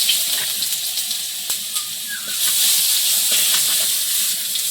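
Garlic and panch phoron sizzle in hot oil in a karahi alongside fried bele fish, a steady close crackling hiss with small pops and no talking.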